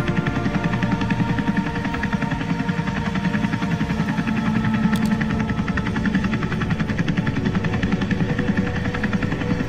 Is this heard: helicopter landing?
yes